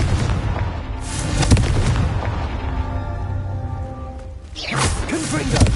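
Blasting-spell explosions in Hogwarts Legacy: heavy booming bursts at the start and again near the end, with rumbling game noise in between.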